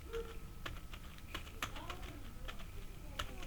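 Soft, scattered clicks of a computer keyboard being typed on while naming a variable in a Scratch program, quiet and close, with irregular bursts of keystrokes and no talking.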